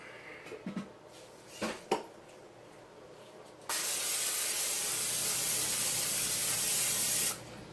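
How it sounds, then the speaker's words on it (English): A few small clicks and taps, then a loud, continuous hiss of aerosol cooking spray onto an old pan, lasting several seconds before stopping abruptly. "Let me spray it so it don't stick."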